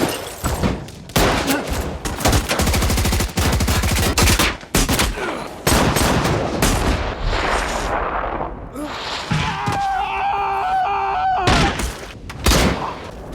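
Dense bursts of rapid gunfire, loud and close, with a few brief pauses and some shouting mixed in, during a shootout between two gangs.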